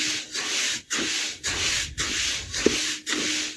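Dry rice stirred by hand in a hot pan for home-made puffed rice (muri), giving a steady run of close, rhythmic scraping and rustling strokes broken by brief pauses.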